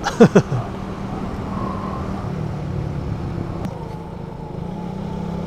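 A motorcycle rides down a winding zigzag mountain road through the Sierra Madre toward Baler. A few sharp knocks open, then a steady engine drone with road noise continues close by.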